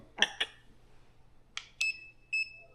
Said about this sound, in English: You'll hear it beep twice.